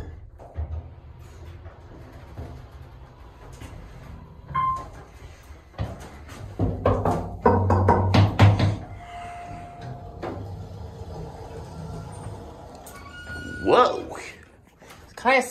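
An Otis Series 1 hydraulic elevator at a Holiday Inn Express in Reading, PA runs with door thumps, clunks and squeaks, mostly quiet mechanical rumble with louder bursts midway and near the end.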